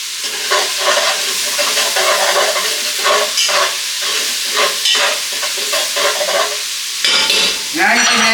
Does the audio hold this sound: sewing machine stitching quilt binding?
no